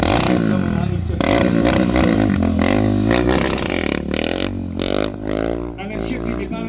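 A motorcycle rides by the moat at Leeds Castle in Kent, its throttle revving loud and close in rising and falling bursts, with clattering and a voice talking over it throughout.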